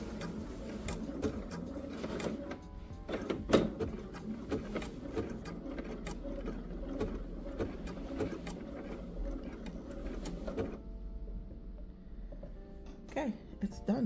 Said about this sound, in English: So I'm going to push the presser foot, and we will see how that sews.